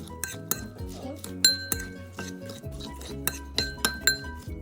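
Utensils clink and scrape against a bowl while mixing a Korean cucumber salad with chili powder, soy sauce and onion chives, a series of irregular sharp taps and stirring scrapes, close and fairly quiet.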